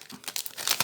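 A foil booster pack of Magic: The Gathering cards is torn open: short, bright crinkles and rips come in quick irregular bursts close by, with no talking.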